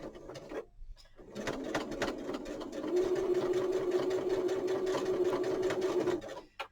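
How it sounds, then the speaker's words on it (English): Domestic sewing machine stitching bunting fabric, starting with a brief burst, a pause, then a fast, steady mechanical whirr with rapid needle clatter that holds for several seconds before stopping, close and alone. "So forward and back stitch to start with."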